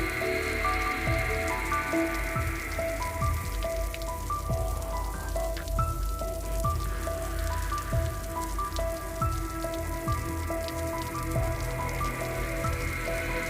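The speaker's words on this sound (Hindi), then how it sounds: "ये बारिश तो जैसे थमने का नाम ही नहीं ले रही।" Heavy cartoon rain pours steadily and loudly the whole time, a dense patter of drops on surfaces under a soft musical backing, with no one speaking.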